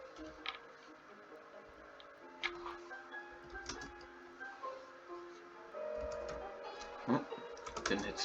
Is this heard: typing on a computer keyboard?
yes